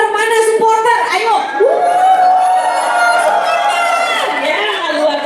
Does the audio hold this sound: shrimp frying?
no